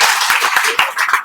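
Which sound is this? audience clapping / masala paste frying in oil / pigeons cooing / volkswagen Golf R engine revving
audience clapping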